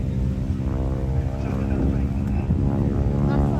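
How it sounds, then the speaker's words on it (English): A propeller aircraft dives low to about 200 feet at an air show, its engine droning steadily and loud throughout, with a commentator's voice partly heard over it. "Now Dave diving the aircraft down to 200 feet."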